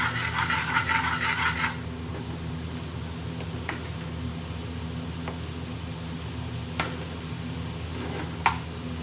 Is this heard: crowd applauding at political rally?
no